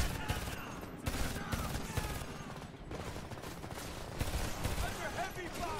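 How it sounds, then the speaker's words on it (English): Heavy gunfire in the Homefront video game, with dense overlapping shots and bursts filling the whole stretch at a steady loud level, punctuated by sharper cracks. Voices sound within the combat noise. "Under heavy fire."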